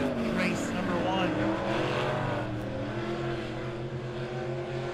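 USRA B modified race cars roar around a dirt oval track in a heat race, a steady loud engine drone with rising and falling pitch as cars pass, under continuous announcer commentary.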